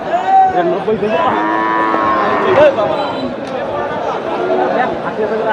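A bony Sahiwal cow lets out a long, loud moo nearby at a cattle market while people talk over a busy crowd background.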